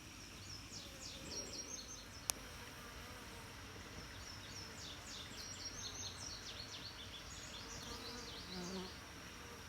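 Honeybees buzzing steadily at the entrance of a Layens hive during a summer inspection, a dense continuous drone with a few faint bird chirps behind it and one sharp click partway through.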